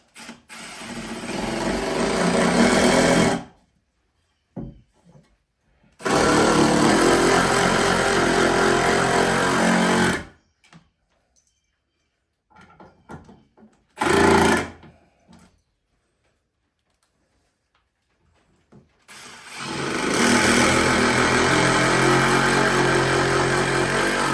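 A cordless drill drives Phillips head screws in several loud, close whirring bursts of a few seconds each, separated by quiet gaps, with no talk.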